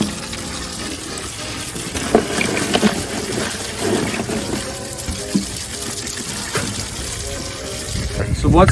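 Water gushes and splashes from a cooler holding crawfish being purged outdoors, a busy, uneven wash with a few louder sloshes and a voice talking over it.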